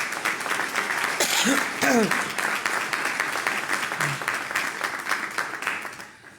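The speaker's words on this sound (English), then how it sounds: "Give him a round of applause" At a graduation for fire and EMS cadets, an audience applauds the fire chief with sustained clapping throughout, loud and fairly close, while a voice briefly speaks over it.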